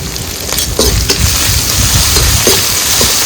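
Garlic and ginger paste frying in a pan for a pointed gourd dish, a loud, close, steady sizzle with a few soft stirring knocks, no talk over it.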